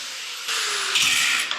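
A power tool trims sheet metal on a 1967 Toyota Stout truck, starting as a steady whine that steps up louder midway, then a brighter, harsher cutting burst near the end; no talking.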